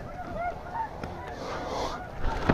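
Snow geese honk in flight during an October hunt, a loose chorus of nasal calls from a group at moderate distance, with wind noise and a faint voice underneath.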